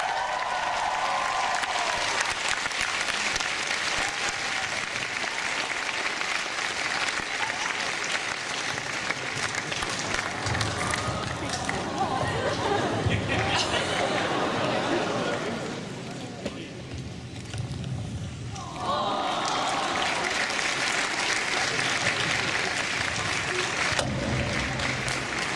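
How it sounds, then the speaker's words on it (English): A large audience at a Walking Dead fan convention panel gives sustained loud applause and cheers as a fan comes up on stage. It dips briefly midway, then swells again, with voices talking over it. "Let's cheer her on as she comes up."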